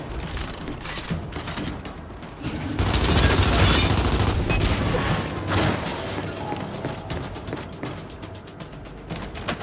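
Dense, sustained gunfire from the video game Gears of War 5: rapid automatic bursts and overlapping shots that swell into a heavy barrage midway, then continue as a steady, loud rattle.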